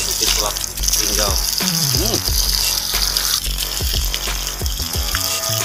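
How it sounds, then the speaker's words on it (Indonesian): Spring water pours from a spout fed from Bukit Sulap hill in Lubuklinggau, a loud, close, continuous splashing gush with no break. "pancuran air ini berasal dari atas sana ya, dari Bukit Sulap Linggau"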